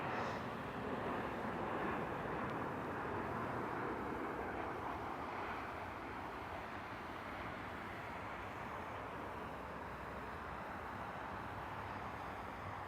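A jet airliner taking off from runway 05 at Toronto Pearson, a steady broad engine roar sustained at moderate distance without any break, with no voices over it.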